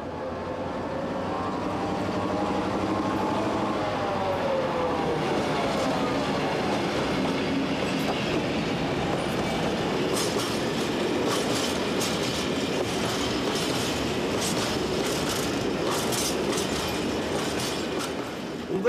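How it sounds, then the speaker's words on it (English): A diesel freight train hauling a rake of empty steel wagons rolls past on a Belgian line, with a rising engine drone followed by a long, loud, steady run of clattering wheels and metallic rattles, close by, with no talk. "This northbound rake of empty steel wagons is a balancing working to the loaded train"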